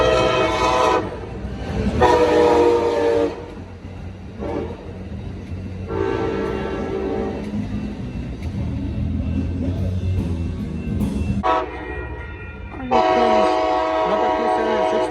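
A southbound Coaster commuter train passes at Oceanside, with loud horn blasts sounding in several separate bursts over a continuous rumble of rolling railcars close by.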